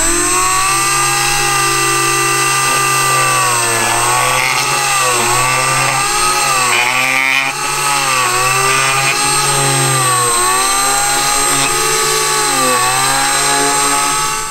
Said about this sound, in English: I've got the old trusty Dremel out. First things first, I've got a very small drill bit. I'm going to drill some pilot holes.